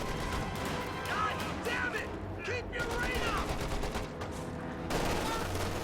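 Light machine gun fire in a video game sounds as sustained rapid bursts of gunshots under a busy game soundscape, with a voice talking over it.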